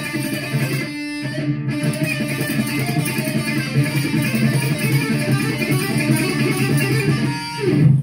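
Electric guitar playing a solo passage with fast tremolo-picked notes in a harmonic minor scale, a dense, continuous distorted tone that runs for several seconds after a brief gap near the start, with no talking.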